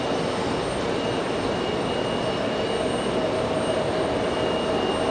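An ATR turboprop airliner lands at Raleigh-Durham International Airport, a steady broadband engine roar with a faint whine, heard from a distance and unbroken for several seconds.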